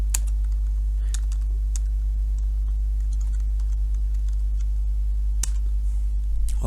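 Keys click on a computer keyboard while a Python file name is typed: scattered quick taps over a steady low hum, with a sharper clack near the end.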